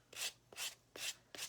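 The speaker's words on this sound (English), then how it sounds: "let's start sanding" Sanding a decoupaged Dollar Tree egg over wax paper, four distinct rasping strokes in a steady rhythm, close and clear with quiet gaps between them.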